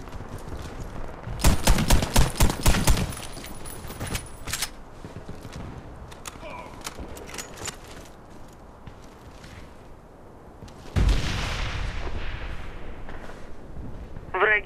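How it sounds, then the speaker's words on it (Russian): In the video game Warface, a bomb goes off among bursts of gunfire, loud and dense, with a second large blast late in the clip and scattered shots and footsteps between. "Враги взорвали бомбу."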